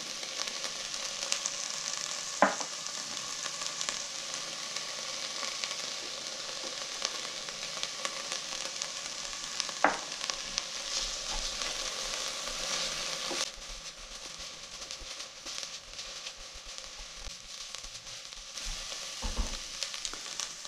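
Chicken pieces frying in a soup pot give a steady, moderately loud sizzle throughout, with a few brief clinks or stirring knocks and a slightly quieter stretch near the end; no one talks.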